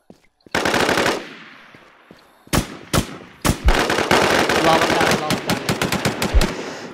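Rapid bursts of automatic gunfire ring out in the online survival shooter Infestation, loud and close, with sharp single shots early on and then dense overlapping volleys, while a voice is faintly present beneath.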